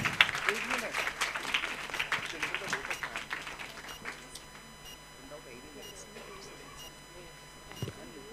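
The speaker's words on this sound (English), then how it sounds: "Come on, delegates, a big round of applause." Delegates and children applauding at a school Model UN grand finale while jury members are honoured on the dais; strong mixed clapping at first that thins out and fades toward the end, with a brief louder burst near the close.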